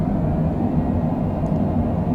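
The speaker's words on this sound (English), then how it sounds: "Spoilers are up, reverser's on." Steady, loud broadband roar of an airliner's thrust reversers engaged during a night landing rollout at Rocky Mountain Metro airport in Colorado, a continuous rumble with no pauses.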